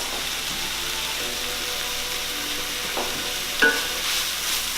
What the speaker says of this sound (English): I'm going to add my wilted spinach into the mix.